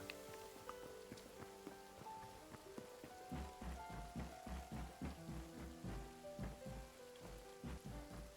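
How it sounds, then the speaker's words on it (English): Rain falls steadily in the video game Hytale, a soft hiss of drops on surfaces beneath quiet ambient game music with a rhythmic low pulse, fairly faint and without talk. "Oh, it's raining."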